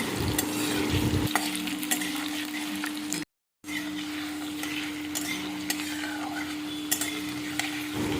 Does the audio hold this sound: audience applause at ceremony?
no